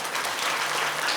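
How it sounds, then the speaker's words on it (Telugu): An audience claps at a temple bhajan, a dense, lively burst of many hands applauding together, close and steady for the whole moment. "క్లాప్స్ కొట్టాడు"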